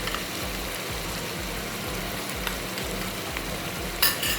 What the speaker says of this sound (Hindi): और इन्हें थोड़ा सा सौटे कर लेंगे।